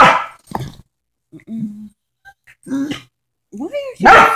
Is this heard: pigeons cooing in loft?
no